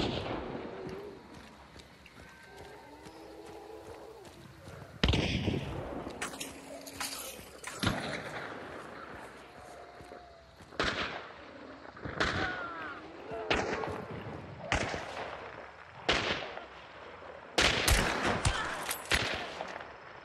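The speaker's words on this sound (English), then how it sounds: "Somebody's shooting right over here." Gunshots from the video game Hunt: Showdown during PvP play ring out as sharp, loud broadband cracks, some single and some in quick pairs, spaced irregularly over a background of game ambience, with faint talk underneath.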